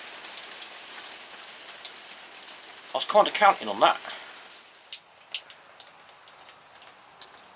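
Steady rain falls outdoors at a garden greenhouse, a soft broadband patter throughout with a brief louder burst of drips midway, while someone speaks briefly over it.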